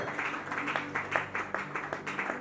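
A church congregation applauds a reverend pastor with quiet, rhythmic clapping that pulses in a steady beat throughout.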